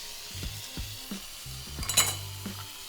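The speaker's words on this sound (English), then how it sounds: "Give it a stir." Chicken curry with a pinch of chili flakes being stirred in a pan, soft scraping strokes and light utensil knocks over a low simmer, ending in a brief clink.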